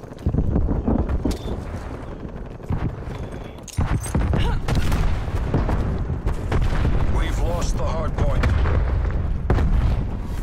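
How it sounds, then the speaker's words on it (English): Flashbang grenade blast in a shooter video game, heard among loud booms and bursts of gunfire in continuous combat noise, with voices talking over it. "Sending flashbang"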